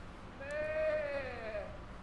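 In Kingdom Come: Deliverance, a drunk character imitates a sheep, producing one drawn-out wavering bleat over quiet background ambience.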